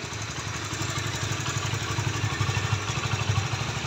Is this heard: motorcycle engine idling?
yes